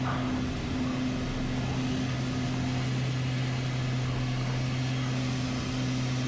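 A steady engine drone from a small airplane taking off with landing gear retracting, a constant low hum, loud and close, holding evenly throughout with no voices.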